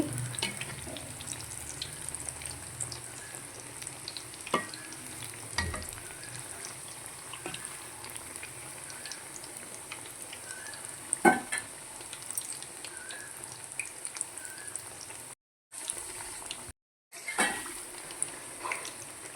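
Banana flower vadas fry in oil over a low flame, giving a steady soft sizzle with faint pops and crackles and a few clinks of utensils, with no talk.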